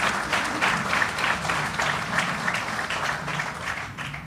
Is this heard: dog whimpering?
no